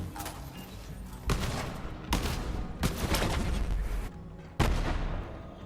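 Gunfire from a legendary gun in the Borderlands 3 video game: several loud, sharp blasts at irregular intervals, each followed by a rumbling, explosive tail, with no speech.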